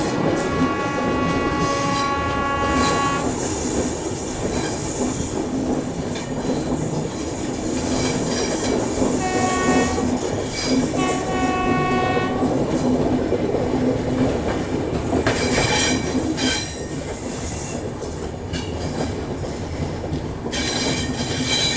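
The Superfast Jammu Tavi Humsafar train runs along the ring railway through a congested area, with loud continuous rumble of wheels on rails, rhythmic clacking, and repeated high squealing of wheels on curves, with no talking.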